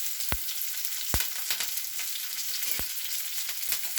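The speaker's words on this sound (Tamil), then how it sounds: "இதை நம்ம அப்படியே கோல்டன் ப்ரௌனாக ஃப்ரை பண்ணுறோம்." Onions and curry leaves frying in a pan, a steady close sizzle with several sharp crackles and pops spread through, no voices.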